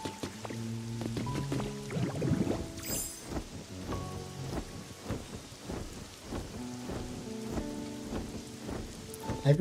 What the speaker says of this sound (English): I really enjoy the rain music for daytime Bleak Beach.